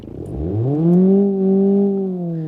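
The engine of a Bruckell LeGran 2.5 S with a manual transmission, in the BeamNG.drive video game, revs up from low to a strong, steady drone, loud and close with no talk over it.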